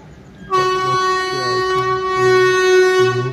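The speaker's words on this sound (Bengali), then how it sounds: "ট্রেন এখান থেকে ছাড়বে, 2 থেকে 5 মিনিট লাগবে" A long-distance Howrah–Chennai express train standing at Balasore station sounds a loud, sustained horn blast that begins sharply and holds steady, with low engine rumble pulsing beneath it.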